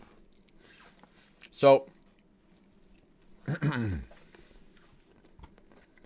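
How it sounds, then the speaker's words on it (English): Two short, close crunching bites into peanuts, a couple of seconds apart, against a quiet background, with a brief word spoken just before. "So I'm going to crunch away on some legumes"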